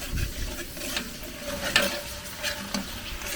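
Garlic and onion sauté in margarine while a spoon stirs them, giving a steady close sizzle broken by scraping strokes and soft clicks against the pan.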